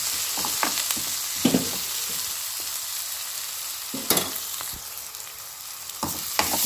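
Onions sautéing in a pan for a chicken samosa filling, a steady sizzle with intermittent scraping stirs and a few louder clatters of the spoon against the pan.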